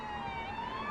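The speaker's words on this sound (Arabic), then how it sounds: "صوت سرينة الشرطة شق سكون الليل من بره الفيلا" A police car siren wails outside a villa at night, a loud steady electronic tone with rich harmonics slowly sweeping upward in pitch, continuous with no voices.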